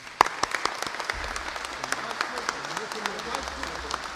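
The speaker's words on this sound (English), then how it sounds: "Let's give them a round of applause." A crowd at an Illinois event celebrating improved Amtrak high-speed rail gives applause to the state's congressional members: scattered sharp claps rising into steady clapping, moderately distant in a large room.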